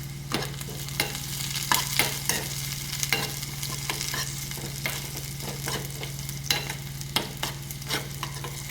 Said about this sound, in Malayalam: അതേ കടായിലോട്ട് നമുക്ക് കുറച്ച് സവാളയും കൂടി ഇട്ടിട്ട്